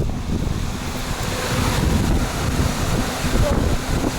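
The 4-cylinder cooling fan on a Peugeot 407 with an EW10J4 engine runs loudly as a steady, broadband whooshing roar that holds fairly even throughout, with low rumble underneath.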